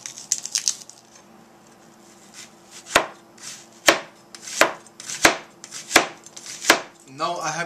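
A very sharp knife chops onions on a board, first in a quick cluster of light taps, then after a pause in slow, evenly spaced, crisp knocks that ring out clearly, ending with a brief rustle.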